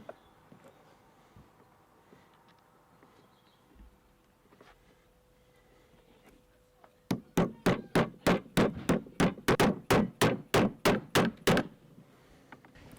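A new locking pin is tapped into the bevel gear and shaft of a sailboat's furling mast, about sixteen sharp, evenly spaced metallic hammer strikes arriving in a steady rhythm, loud and close after several seconds of quiet.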